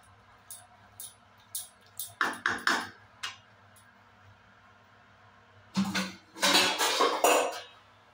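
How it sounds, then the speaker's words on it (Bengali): Metal pressure cooker being rinsed with water in a kitchen: sharp clanks and knocks of metal at first, then a louder stretch of splashing water and rattling against the pot near the end, close and without talk. "আর প্রেসার কুকারটাকে ধুয়ে জল একটু দিয়ে দেবো।"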